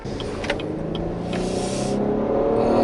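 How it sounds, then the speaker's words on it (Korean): A Cadillac CT6 luxury sedan pulls away from a standstill, its engine hum building steadily louder under cabin noise. "발진 가속, 초반에 스타트가 아주 힘이 있습니다."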